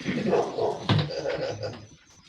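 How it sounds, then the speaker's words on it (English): A dog lets out one short, sharp bark partway through, close by, over a low murmur of background noise at an outdoor Yule ritual gathering. "That's Zeus the dog."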